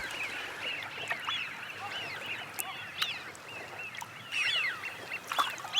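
Eurasian wigeons call over a wetland at Chilka, giving a steady run of whistling and chattering waterfowl calls with a few louder notes standing out, and no voices.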